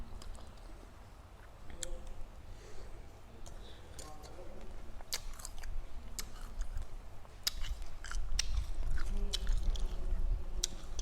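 Crunchy, moist chewing of small tamarind eaten with jaew dipping sauce, close and intermittent with clicks and bites, with a voice occasionally talking in the background.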